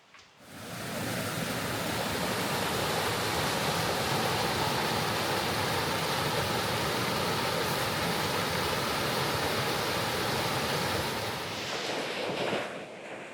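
A mountain creek rushes along a Blue Ridge hiking trail, a steady, full broadband roar of flowing water that holds close and constant for the whole stretch, with no voices over it.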